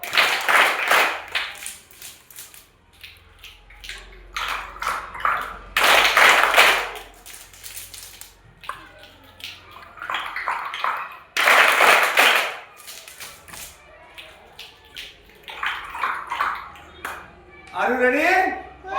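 Students clapping during a classroom activity at a primary school, bursts of group clapping alternating with a teacher's voice and children speaking between them.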